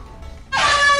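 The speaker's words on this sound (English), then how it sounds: "I got an air horn." An air horn in the video game Lethal Company: a sudden loud blaring blast kicks in halfway through after a quiet moment and holds steady to the end.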